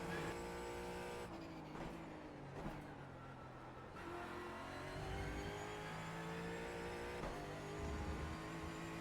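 Mustang race car in the iRacing sim, its engine droning loudly and continuously with shifting revs as it backs off and powers through a corner, steady throughout with no speech.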